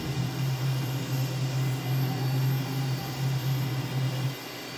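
Jet engine of an M346 fighter jet on its takeoff roll in Microsoft Flight Simulator 2020, a steady loud roar with a droning hum that drops off abruptly near the end.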